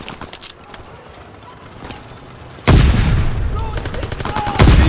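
Gunfire in Call of Duty: WWII during a war operation, with bursts of shots breaking out loudly about halfway through and continuing over battle noise, after a quieter stretch of scattered distant shots.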